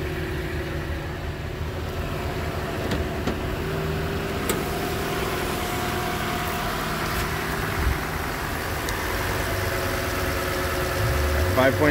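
A 2019 Toyota Sequoia's 5.7-liter V8 idles with a steady, continuous rumble and low, even hum, close by, while faint clicks and a voice sit softly in the background.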